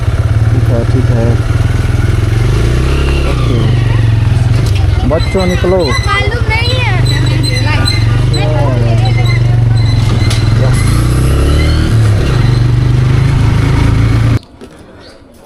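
A motorcycle engine idles and revs steadily up close at the Manu temple in Manali, with people talking and calling out over it, until it cuts off abruptly near the end.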